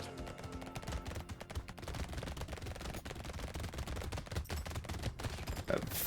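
Rapid, continuous SMG fire in the arena shooter Brotato, dense crackling bursts layered over game music at moderate loudness, with no talk.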